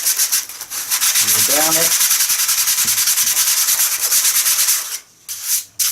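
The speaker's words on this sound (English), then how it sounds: "Take your sandpaper again and just rub it over." Sandpaper rubs over balsa wood while a crashed Acrowot XL FPV model plane is repaired, a loud, continuous rhythmic scraping that stops briefly near the end, with a short spoken phrase early on.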